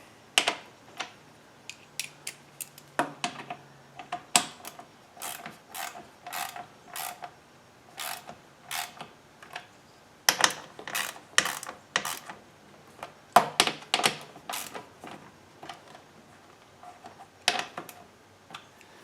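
A lawn mower blade bolt is tightened with a wrench, giving a quick series of sharp metallic clicks and ratcheting ticks in short irregular bursts, close and fairly quiet.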